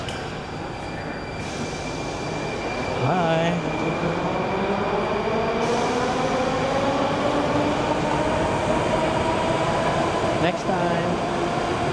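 A Moscow metro train pulls away from the station with a rising electric motor whine and rumbling wheels that build and hold loud and near, while a few words are spoken over it.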